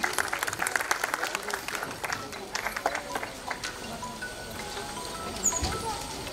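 An audience at an award ceremony breaks into a dense burst of clapping that gradually thins and softens, with voices mixed in.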